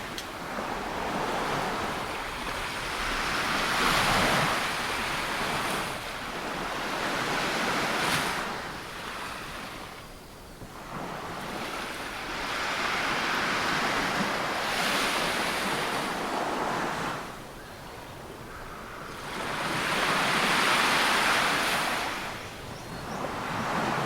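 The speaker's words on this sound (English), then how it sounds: "Bondi, the waves on the beach pass my feet." Ocean surf rolling onto Bondi Beach in Sydney, Australia, with loud waves breaking and washing up in repeated swells about every eight seconds, plus some wind noise, no voices.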